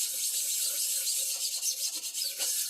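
Hand sanding scrapes across the aluminum finish of a DeWalt planer table with a steady, close, hissing rasp of continuous back-and-forth strokes.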